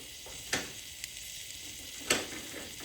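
Quiet sizzle of steak frying in a pan for breakfast, with a couple of sharp pops and crackles over the soft, steady hiss.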